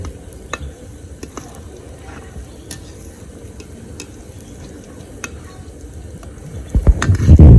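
Palm-fruit malpua batter frying in hot oil, a steady low sizzle with scattered light ticks and pops, swelling into a louder, denser crackle near the end; no talking.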